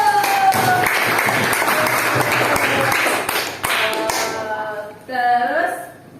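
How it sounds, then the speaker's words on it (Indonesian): Elementary classroom of pupils clapping their hands together, a dense, busy patter of many claps lasting several seconds at close range, tapering off as a voice and chatter rise at the end. "jadi orang sukses kemudian tepuk tangan dulu."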